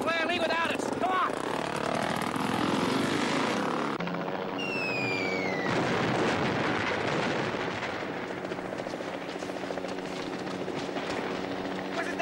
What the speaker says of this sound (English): Get into the chopper!